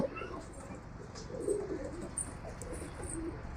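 Soft cooing from a female Chini patta pigeon, a low murmuring coo with a stronger burst midway, over steady background noise and faint bird chirps.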